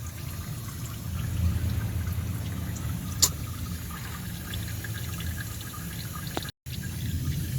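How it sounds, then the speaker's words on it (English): Engine oil dripping from the drain of a Ford Focus MK1 during an oil change, a steady low trickle of liquid with one sharp drip-like tick, close and continuous, no talking. "Now, this will drip for some time"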